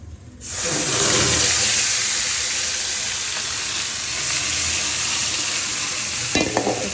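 Small phapsa fish fry in a pan with a loud, continuous sizzle that starts abruptly and holds steady, ending with a brief clatter of stirring.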